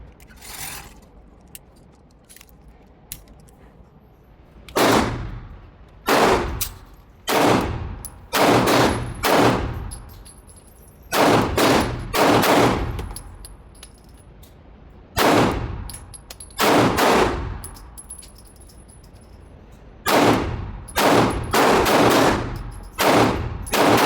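A Sig Sauer P226 X Legion pistol fires at an outdoor range in loud, close, sharp reports, mostly in quick bursts of two to four shots separated by pauses, with faint clinks between strings.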